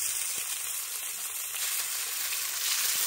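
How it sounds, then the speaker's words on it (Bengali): Egg pieces fry in hot oil in a village kitchen, making a loud, bright, steady sizzle close up. A few faint chirps rise early on, and no voices are heard. "এবারে ডিমের পিসগুলো তেলে দিয়ে দিচ্ছি বাবা"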